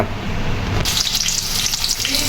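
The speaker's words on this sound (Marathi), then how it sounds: "टोपशीमध्ये तेल टाकलेलं आणि गरम झाल्यानंतर ना कांदा टाकून घेतलेला आहे" Onion hits hot oil in a pot and sizzles loudly and close, a steady crackling fry that swells as the pieces land.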